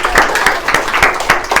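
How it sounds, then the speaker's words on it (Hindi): A class of children in a Hindi-language lesson breaks into a short burst of rhythmic hand clapping, steady and fairly loud, filling the room with sharp, repeated claps. "तालियां"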